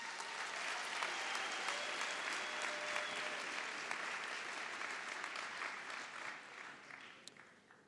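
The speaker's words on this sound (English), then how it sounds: "Can we give ourselves a round of applause" A graduation ceremony audience applauds continuously for about eight seconds, a broad wash of many hands clapping at moderate distance that slowly thins toward the end, with no voices over it.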